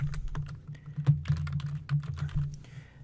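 Keys clacking on a computer keyboard as a file name is typed, a quick irregular run of close, crisp taps over a low steady hum.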